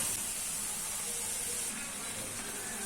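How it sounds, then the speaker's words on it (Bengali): Onion and spice paste sizzles steadily in a pan while being sautéed for a rohu fish curry, a continuous close, even hiss throughout with no talk. "আগে থেকে যেমন পেঁয়াজটা বানিয়ে রেখেছিলাম ওটা খুব ভালোভাবে কষিয়ে নেব কিছুক্ষণ সময় নিয়ে"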